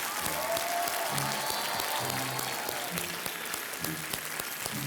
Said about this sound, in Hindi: तालियों के साथ उनका स्वागत करते हैं।